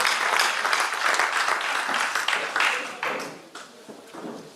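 A church congregation applauds for the Lord with sustained clapping. It rises and falls over several seconds and thins toward the end.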